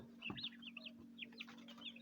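Several recently hatched chicken chicks cheep in quick high-pitched peeps, close by and fairly soft, over a steady low electrical hum in an indoor space.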